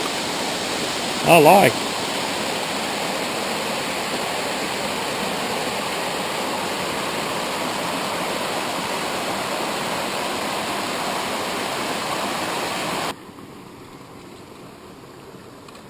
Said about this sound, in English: we're debating on whether this cascade is natural or not